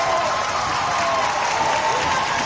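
At a girls high school volleyball match in a gym, the crowd applauds and cheers in a steady, dense wash of clapping and voices that holds at full strength throughout.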